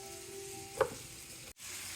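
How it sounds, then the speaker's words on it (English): Onions caramelizing in a pan, giving a soft steady sizzle close by, with a single brief stirring scrape partway through and a momentary dropout near the end. "So we're gonna caramelize these onions."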